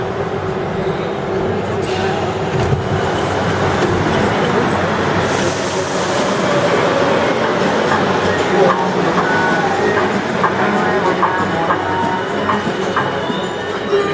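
Mexico City metro train in motion, heard from inside a crowded carriage: a loud, steady rumble and rattle of wheels on track with faint clicks, continuous throughout, with a murmur of voices underneath.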